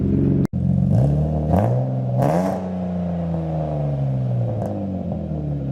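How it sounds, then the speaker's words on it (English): BMW E36 drift build's engine at idle, blipped several times so it rises in quick raspy revs that fall back, then settles into a steady rumbling idle, close and loud with no talk. "it still sounds sounds like a Beamer, nice and raspy"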